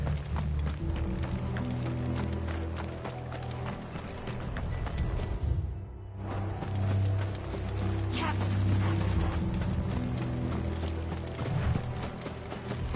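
Horses trot in the Final Fantasy XVI video game, a steady run of hoof clip-clops close by under continuous game sound and music, with a short dip in the middle.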